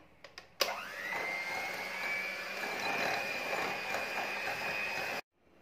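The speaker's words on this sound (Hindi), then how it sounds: "अब इन्हें हैंड ब्लेंडर से अच्छे से ब्लेंड करेंगे और फ्लफी होने तक इसे ब्लेंड करेंगे" A hand blender whirs steadily for about five seconds after a couple of short clicks, a loud high-pitched motor hum that cuts off abruptly, blending butter and sugar until fluffy.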